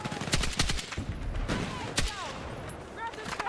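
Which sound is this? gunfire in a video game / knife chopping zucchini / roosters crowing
gunfire in a video game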